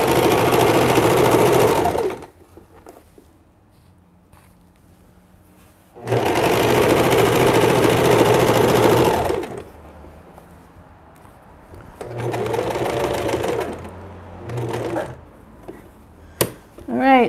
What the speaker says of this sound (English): This is real-time sewing here, and backing it up to lock that stitch in and make it tight.